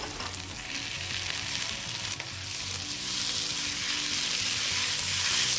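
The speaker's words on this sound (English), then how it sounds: "We're just going to be adding our tomatoes here." Diced potatoes and tomatoes sizzling and being stirred in a frying pan for an Indian aloo sabzi, a loud, steady, close crackling hiss throughout with no voices.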